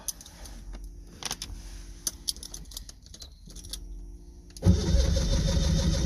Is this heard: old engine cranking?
yes